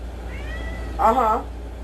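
A black cat meows once, a short clear meow up close over a quiet background.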